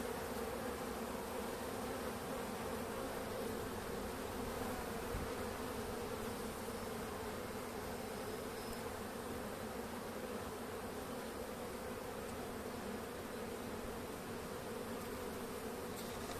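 Anatolian honey bees at a hive during their end-of-winter emergence make a soft, continuous buzzing hum that stays even and fairly faint throughout, with no other sounds or voices.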